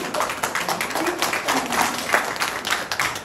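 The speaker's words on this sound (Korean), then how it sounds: "박수" A seminar audience at a business briefing gives a brief round of steady, dense applause, fairly close and unbroken for a few seconds.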